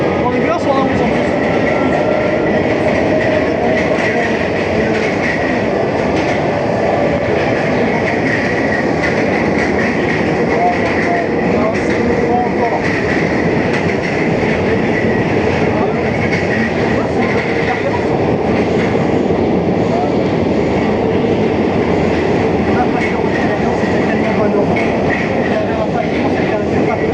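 A Paris Métro line 11 train under manual driving runs through a tunnel with a loud, continuous rumble and rattle and a persistent high wheel whine, heard close from on board for the whole stretch, with voices now and then.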